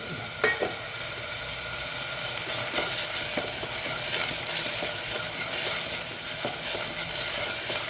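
Green chillies and thin-sliced ginger fry in hot oil in a pan, a steady crackling sizzle with occasional sharp pops and stirring scrapes, close and continuous, no voices.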